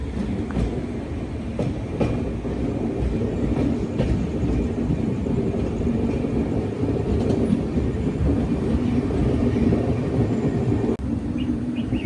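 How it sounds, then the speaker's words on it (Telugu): A Padmavati Express train rolls slowly along the rails between Tirupati and Secunderabad, giving a steady, close rumble with faint wheel clatter that holds level throughout, with no voices. "ఇలా ల్యాక్గా వెళ్తుంది బండి."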